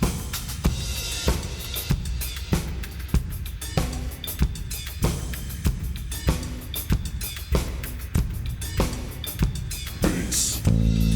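Rhythmic drums pounding in a steady repeating pattern, dense and loud with regular sharp hits about every half second, no voices.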